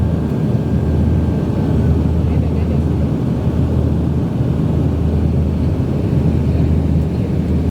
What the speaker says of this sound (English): As the plane made its descent towards Kisumu International Airport